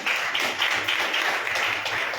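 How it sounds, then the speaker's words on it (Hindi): A congregation claps hands in Jesus' name at a church service, a dense, steady patter of many hands with no talk. "बजाओ ताली यीशु के नाम"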